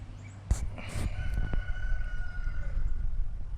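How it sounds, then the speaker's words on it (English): Backyard free-ranging chickens crowing outside near a vegetable garden, with a couple of rooster calls at a moderate distance over a low steady outdoor background. "You can hear my chickens crowing out there in the background."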